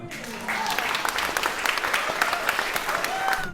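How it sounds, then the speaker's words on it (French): Sustained applause from an audience honouring a long-serving member of the AGIR at a retirement tribute, dense steady clapping filling the room for several seconds after a brief start. "Je pense que ça mérite quand même un applaudissement."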